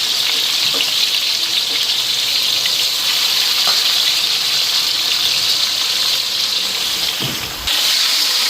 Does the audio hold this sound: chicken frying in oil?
yes